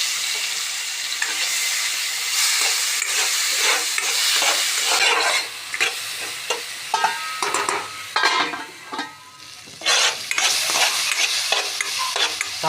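Chopped tomatoes cooking in oil in a pan while being stirred, a loud close sizzle broken by repeated scraping and stirring strokes, with no voices.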